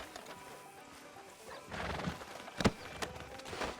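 Horse sounds from the Red Dead Redemption 2 video game, with a rising burst near the middle and a sharp loud hit, faint background rumble throughout, no talking.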